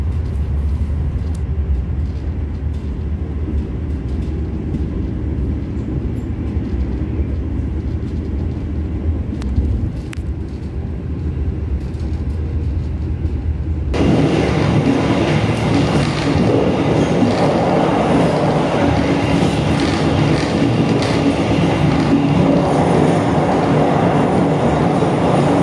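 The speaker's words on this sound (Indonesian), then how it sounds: "ini dia rangkaian kereta api Dharma Wangsa Express" The Dharma Wangsa Express passenger train, passed from aboard another train, starts as a steady low rumble, then turns abruptly into a loud, close rushing roar with rhythmic wheel clatter that lasts to the end.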